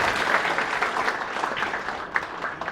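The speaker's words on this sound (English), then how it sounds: "A big round of applause for Shivi ma'am and Simran." An audience at a classroom topper's talk for a civil services exam bursts into steady, dense applause, a close and continuous patter of many hands lasting the whole stretch with no talk over it.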